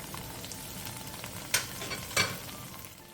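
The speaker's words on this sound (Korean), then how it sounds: "양념이 끓어오르면 중약불로 줄인 뒤 한 번씩 뒤적여가며 30분간 졸여주세요." Seasoning sauce for a Korean side dish simmering over medium-low heat in a pan, a quiet steady bubbling sizzle with two brief scraping stirs.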